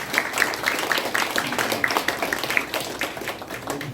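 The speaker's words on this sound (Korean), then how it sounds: "선생님들 감사합니다. 큰 박수로" Audience applause closing a talk at the 100th anniversary commemoration of Han Yong-un's 'The Silence of Love', dense continuous clapping throughout at moderate level with no voices.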